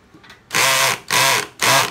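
Three loud bursts of a Makita power drill's clutch ratcheting and slipping in screwdriver mode, each about half a second, separated by short pauses.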